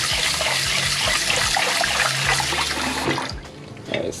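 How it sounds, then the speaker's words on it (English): Water runs steadily from a kitchen faucet, rinsing canned tuna in a sink. It makes a loud, continuous splashing hiss close by, which shifts and drops briefly near the end. "So let's turn on the water."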